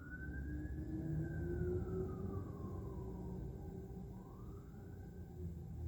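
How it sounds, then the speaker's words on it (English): An emergency vehicle siren wails outside, its sweeping tone rising and falling at moderate distance beneath steady low traffic rumble, with no talk. "all the time the siren go off"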